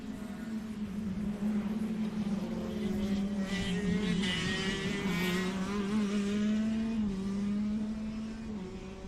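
Racing cars on a circuit during a club race round, engines roaring past in a continuous loud drone with a rising and falling pitch as they pass by.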